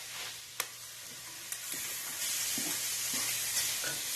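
Cabbage and carrots for pancit frying in a pan, a steady broadband sizzle close by with a few sharp clinks and stirring scrapes, no talking.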